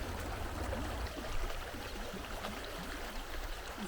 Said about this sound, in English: Little creek gurgling, the kind of place you want to run around barefooted.